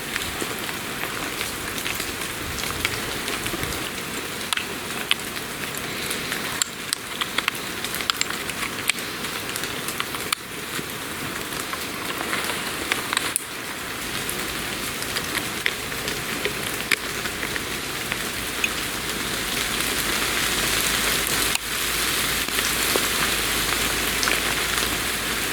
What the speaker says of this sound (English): The rain's already started coming down.